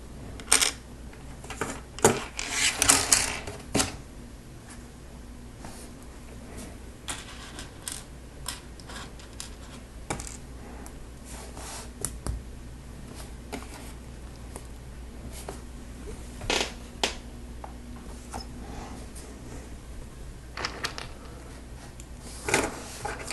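Lego Technic pieces for a wheel loader set being handled and snapped together, scattered small plastic clicks and rattles, close and fairly quiet, with no talking.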